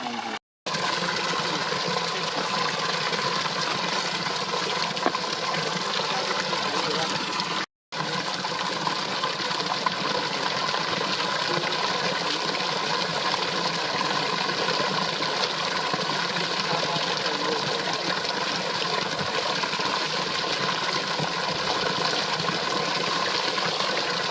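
Water gushes steadily and loudly into a deodar wood trough built for animals to drink from, in a rural Uttarkashi village, a continuous dense rush with only brief breaks.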